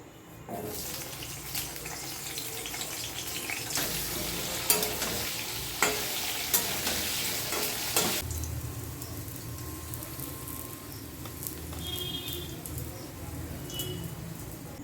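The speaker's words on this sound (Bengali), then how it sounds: "এবার আমি আলুটা ভেজে নিই" Potatoes frying in a pan sizzle loudly and steadily with stirring clatter for several seconds, then the frying fades to a quieter background hiss with a few faint tones.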